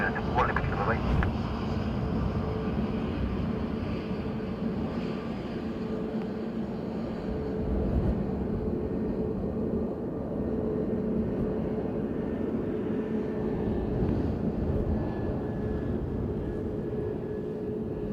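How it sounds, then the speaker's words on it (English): A Ryanair airliner from Barcelona coming in to land at Dublin Airport on a windy morning produces a steady, broad jet roar and rumble that lasts throughout, with faint voices underneath. "Ryanair from Barcelona, about to touch down."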